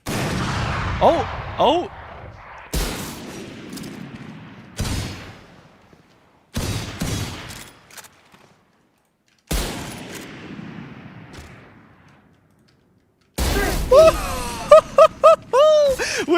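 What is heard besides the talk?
gunfire in Valorant video game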